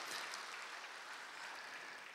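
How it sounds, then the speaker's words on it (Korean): Faint applause from a congregation welcoming new members at a Sunday morning church service, a soft continuous wash of clapping, distant and steady throughout. "우리 동산의 가족이 되신 분들께 마음을 담아 박수로 환영하도록 하겠습니다"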